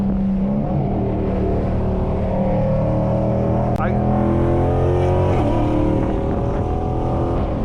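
A cammed widebody Dodge Scat Pack under hard throttle, a loud continuous engine roar with rising harmonics and a brief shift, heard from inside the car.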